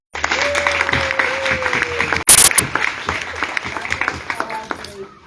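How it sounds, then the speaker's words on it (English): An audience applauds performers at a school event, a burst of scattered clapping with a sharp loud spike midway, then tapering into irregular claps alongside some background voices. "Let's give all of them a round of applause."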